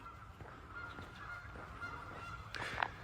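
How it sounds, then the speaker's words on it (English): Geese honk outdoors in the distance, giving faint repeated calls over a low background rumble, with a louder honk near the end. "These geese are loud today."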